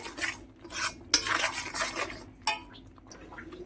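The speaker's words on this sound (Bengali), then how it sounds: "হলুদ লঙ্কার গুঁড়ো নুন চিনি সব একসাথে আমি এর সাথে মিশিয়ে নেব" Spoon scraping and clinking against a bowl or pan while turmeric, chilli powder, salt and sugar are mixed into a spice paste, in irregular short strokes at close range with no talk.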